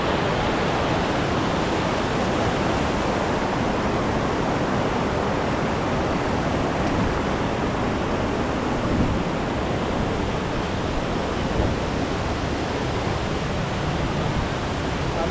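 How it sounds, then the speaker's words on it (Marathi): A steady, dense wash of heavy rain falls through the jungle at night on the Bhimashankar trek, loud and continuous with no pauses or voices. "पाऊस खूप चालू झालाय"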